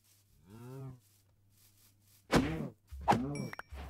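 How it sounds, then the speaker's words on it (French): Cows in the video game Minecraft give a few separate low moos with short pauses between, alongside a couple of soft thuds in a quiet farm setting, with no talking. "Il y en a pas mal, des vaches, en vrai."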